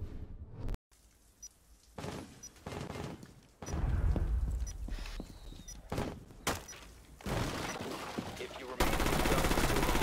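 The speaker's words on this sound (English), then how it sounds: "I shot all three of your plasmas first" Gunfire in Rainbow Six Siege erupts in loud, sharp bursts and rapid volleys with thuds and clatter between them, intensifying toward the end, while a person talks in between.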